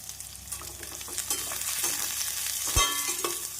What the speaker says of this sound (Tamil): நாம் கடுகு பொரியவும் நறுக்கிய வெங்காயத்தை சேர்த்து விடலாம்.